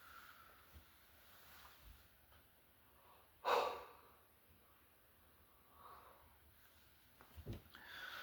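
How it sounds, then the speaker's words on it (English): A man yawning once with a strong breathy exhale, fairly close and quiet, followed by softer breaths and faint sniffs in an otherwise still room. "Sorry, I had to yawn."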